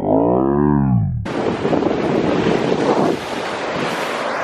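Ocean surf crashing on a shore under heavy wind buffeting the microphone, a loud, steady roar of broadband noise with surging swells, after a brief tonal sweep at the start.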